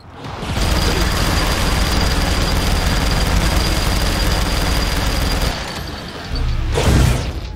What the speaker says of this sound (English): It seems like the bullets from that thing have bounced.